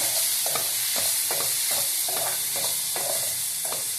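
Masala with chicken masala powder and salt being stirred and sautéed in a frying pan, a steady sizzle under rhythmic scraping strokes of a spoon roughly every half second, close and clear.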